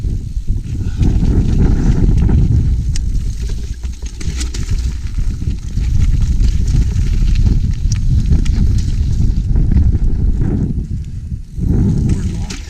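Gale-force wind buffets a mountain bike ride along a boardwalk in Scotland, a loud, steady low roar that surges and dips for most of the stretch, with a brief lull near the end.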